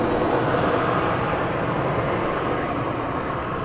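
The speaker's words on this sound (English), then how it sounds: "Qatar Airways Flight 730. It's an Airbus A380 1000 going back to Doha." A Qatar Airways Airbus A380 jet airliner at DFW Airport gives off a steady, broad roar of jet engines, loud and constant across the whole stretch, with no voices over it.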